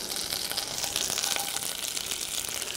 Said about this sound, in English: I'm going to add these onions.